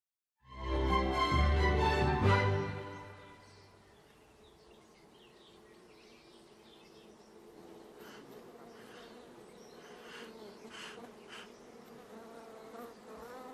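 Honeybees from a garden hive buzz through an early-summer day. A loud, steady drone fills the first two seconds, then a softer, continuous hum carries on to the end.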